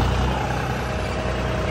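A tractor engine runs on a farm during rice paddy work, a loud, steady low rumble with a constant drone and no pauses, close by and without any talk.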